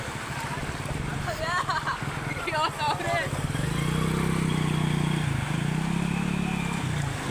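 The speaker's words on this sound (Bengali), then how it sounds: "নদীর মধ্যে দিয়ে মোটরসাইকেল।" A motorcycle rides through floodwater covering a road near Bonkeshor bridge ghat in Tanore, its engine droning low and steady in the second half after a person speaks over a wash of outdoor noise.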